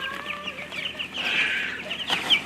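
Meat chicks on a homestead cluck and peep in soft, overlapping bursts, a busy chorus of small birds heard close and steady throughout.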